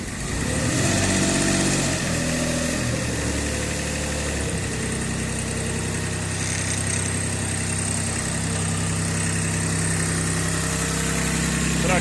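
A Mitsubishi MT1401 mini tractor's diesel engine rumbles at a steady idle nearby, its low throbbing drone continuous and unchanging after a brief rougher start.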